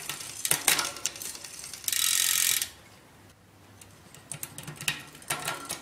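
A road bike chain clicks and ticks through the gears while the derailleur's high-limit adjustment screw is turned, giving irregular close-up ratcheting bursts with one sustained hissing whir in the middle.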